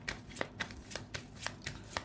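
Tarot cards being shuffled by hand, a soft, steady run of riffling flicks and slaps in a quiet room, close and fairly faint, with no talking.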